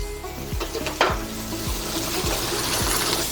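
Dried rice noodles hit a hot pan with scrambled egg for pad thai, sizzling steadily and loudly while a spatula stirs and scrapes in a repeated rhythm.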